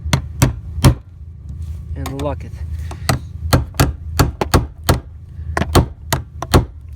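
A hammer strikes the fuel pump lock ring of a Nissan Murano, around twenty sharp metallic blows in irregular bursts, loud and close, with a brief spoken remark partway through.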